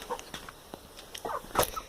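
Chickens inside a chicken coop, clucking and squawking in short, scattered calls close by, with a louder sharp cry near the end.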